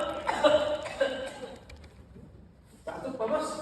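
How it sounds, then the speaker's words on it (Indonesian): A man with a two-week-old persistent cough and itchy throat coughs a few times, rough and close, with speech-like vocal sounds around it and a brief quiet gap before more noise. "Iya nih, udah 2 minggu saya batuk terus."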